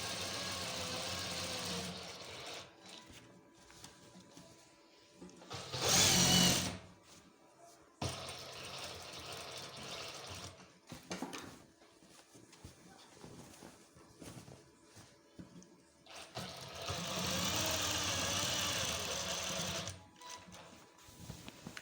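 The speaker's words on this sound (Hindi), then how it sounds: "बैक पैनल पर भी डबल लगा रहे हैं।" A sewing machine double-stitches the back panel of an ajrak waistcoat in bursts, runs of steady mechanical whirring separated by pauses and handling sounds, two louder runs standing out.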